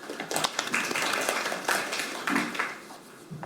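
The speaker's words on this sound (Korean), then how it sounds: "박수로 맞이하도록 하겠습니다." Scattered applause from a small audience at a legal policy discussion forum welcomes a speaker, with light, uneven clapping heard up close along with some faint background sounds.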